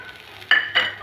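Ground turmeric, chili, coriander and cumin powders with salt are stirred into fried onions in a pan for prawn malai curry. Two brisk scraping stir strokes cut through a soft, steady sizzle, close and distinct.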